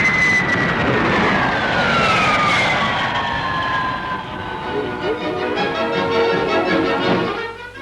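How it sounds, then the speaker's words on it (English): A de Havilland Comet jet airliner flies past with a loud roaring whine whose pitch slides downward as it passes, then a fading rumble with a voice faintly beneath. "the world-famous long-range jet airliner de Havilland Comet has a cruising speed of 490 miles an hour"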